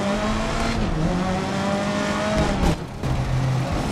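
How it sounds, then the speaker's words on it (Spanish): Race car engines roar through a street circuit in the GRID 2019 racing game, a loud sustained drone with pitch shifts from gear changes and a brief dip near the end, with no talk. "Lo que más me gusta de los circuitos urbanos es el retumbar del rugido de los motores entre los edificios"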